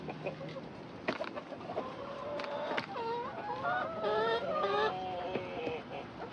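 Backyard hens around a coop giving soft, wavering clucks and rising croons, several birds overlapping at moderate distance against a faint outdoor background.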